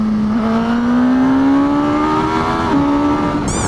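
A Suzuki GSX-S1000GT Euro 5 motorcycle engine revs smoothly and loudly close by, its pitch climbing steadily before dipping briefly and holding again, with no talk over it.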